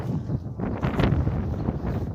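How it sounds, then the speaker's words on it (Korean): Wind rushes steadily past in the shade at Daereungwon in Gyeongju, a broad breathy roar with gusts swelling in the middle, no voices. "굉장히 바람 소리가 좋아요."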